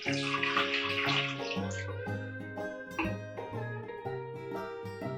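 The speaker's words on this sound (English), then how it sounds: "So first we're going to add our coconut water" Coconut water glugs and splashes as it is poured close by into a blender for a smoothie, strongest at first, over a tonal background hum.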